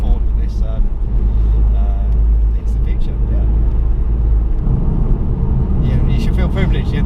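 Modded Ford Focus ST being driven hard, a loud low engine rumble with shifting revs heard from inside the car, with people talking over it.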